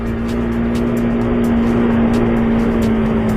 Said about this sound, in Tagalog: Medyo galit yung makina niya.